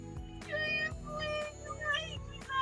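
A cat meows and whines repeatedly indoors, several drawn-out plaintive cries close by with short pauses between them, over a low household hum.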